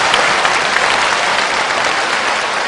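Steady applause from a magic show audience, dense and even throughout with no voices standing out.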